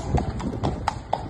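Horse hooves clip-clop in a steady, evenly spaced series of five sharp knocks, close and fairly loud with nothing else heard.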